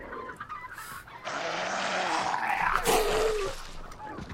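Chickens clucking in the game Hunt: Showdown, a group of fowl squawking and clucking close by, rising into a louder agitated burst mid-clip before settling, with no talk over it.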